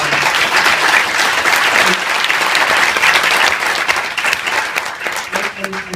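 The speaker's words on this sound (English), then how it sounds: "People usually clap after that" An audience at a White House Champion of Change award event gives loud, sustained applause, dense clapping that holds steady for several seconds before thinning slightly toward the end.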